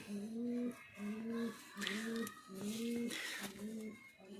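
Loton pigeons coo close by in repeated rhythmic, throaty phrases, several calls in a row, with soft rustling between them.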